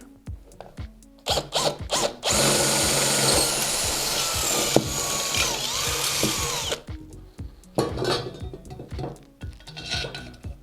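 A power drill whirs in a loud burst of several seconds as bolts are driven in while fitting parts to a bicycle rim being made into a bow, with metallic clanks and knocks of handling before and after.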